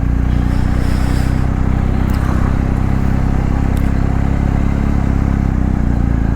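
A 2022 BMW R 1250 GS Rallye with its boxer engine rumbles loudly and steadily while being ridden, a dense low drone with wind rush and faint clattering over it.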